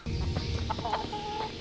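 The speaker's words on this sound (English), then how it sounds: "Chickens again." Chickens cluck close by in the Kingdom Come: Deliverance video game, a short run of several distinct clucks and squawks over a soft background hum.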